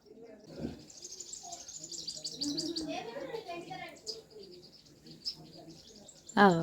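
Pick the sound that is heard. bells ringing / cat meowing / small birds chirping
small birds chirping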